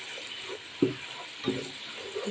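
Spice paste and onion paste cook in a pan with a soft, low sizzle, while two or three dull knocks of a spoon stirring stand out against the quiet, steady hiss.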